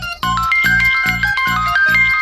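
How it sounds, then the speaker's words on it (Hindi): A mobile phone rings with a bright electronic melody, looping the same short chime pattern about five times in quick succession, loud and close, with no talking over it. "ये बार बार माँ का फोन आ रहा है"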